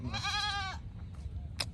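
A goat bleats once, loud and close, with a quavering, wavering cry, followed by quieter rustling and low background noise.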